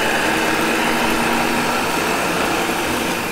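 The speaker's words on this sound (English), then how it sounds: "You let the food processor do all the work." A food processor blends tahini, mint, parsley and red pepper into hummus, a loud, steady motor whir running close and unbroken throughout, with no talk.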